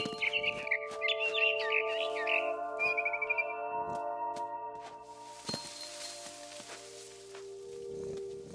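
A barn swallow chirps in the video game What Remains of Edith Finch, giving quick bright trilling bursts for the first few seconds over sustained musical tones, followed by soft thuds and a rustling wash.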